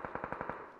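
Rapid burst of about six automatic gunshots in the PUBG battle royale game, fairly distant and muffled with a slight echo, fading quickly afterward.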